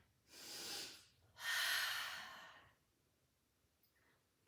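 Two audible breaths during a Pilates mat exercise: a shorter airy breath, then a longer, stronger exhale, both close and alone against quiet, with no speech.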